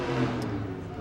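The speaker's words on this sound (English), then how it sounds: "You can hear them in the background revving those engines up" A procession of Corvette convertibles rolls down the street in a Fourth of July parade, their engines revving into one steady, broad rumble a little way off with no clear breaks.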